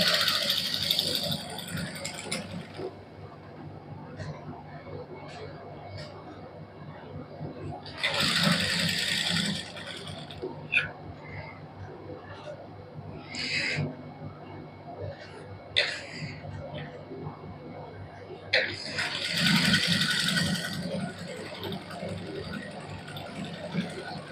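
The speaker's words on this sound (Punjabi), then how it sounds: "ਇਹਦੇ ਉੱਪਰ ਹੁਣ ਆਪਾਂ ਸਲਾਈ ਲਾ ਦਾਂਗੇ" Sewing machine stitching lace onto a printed suit with plain fabric, running in several short mechanical bursts separated by pauses while a person talks nearby.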